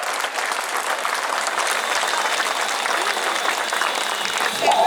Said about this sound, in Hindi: एक बार जोरदार ताली बजाकर ऐसे काम में जो आगे आओ